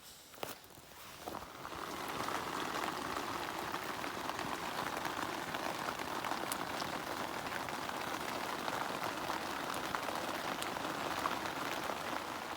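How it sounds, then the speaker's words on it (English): Steady rain patters on a tent in a rural camp with a fire going. A dense, even hiss of drops continues throughout, with a few louder taps near the start. "It's raining"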